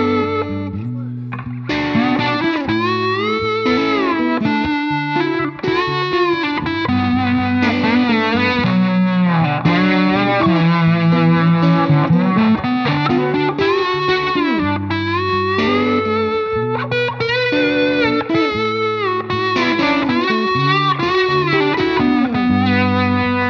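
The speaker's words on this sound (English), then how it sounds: "how to get some great fuzz sounds out of classic fuzz pedals" An electric guitar through a classic fuzz pedal, heavily distorted with thick fuzz tone, plays sustained riffs and bends, loud and continuous.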